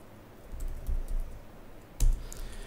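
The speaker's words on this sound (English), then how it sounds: "I'm really fast at typing right now" Fast typing on a computer keyboard during a live coding demo at a computer vision meetup: quick bursts of close keystroke clicks and thumps, with a louder clack near the end and no talking.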